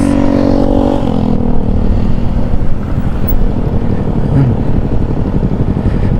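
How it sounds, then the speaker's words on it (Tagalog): Engines of many motorcycles riding through highland terrain, a steady loud rumble with heavy wind noise on the microphone and a brief engine tone at the start. "daming motor oh"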